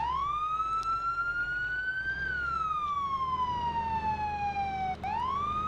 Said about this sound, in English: code 3 is lights and sirens